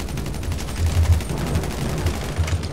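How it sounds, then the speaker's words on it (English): Rapid gunfire in GTA 5 with a sniper rifle in play, irregular heavy bursts and thumps over a dense, noisy background of continuous game action. "He has a sniper rifle"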